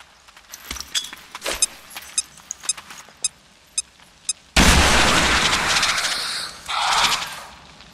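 In XCOM 2, a sharp grenade blast erupts after scattered clicks and small pops, a loud booming burst followed by crackling debris and a second swell of rumble.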